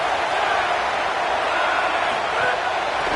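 Stadium crowd in College Football 27 during an NC State game, a dense, steady roar of many voices filling the whole stretch without a break.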